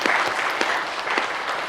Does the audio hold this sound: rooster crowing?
no